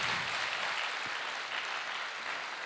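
A church congregation applauds at the close of a Sunday worship service, a soft, even wash of many hands clapping that sounds somewhat distant and steady throughout.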